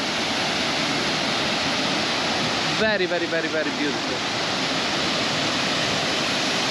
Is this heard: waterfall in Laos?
yes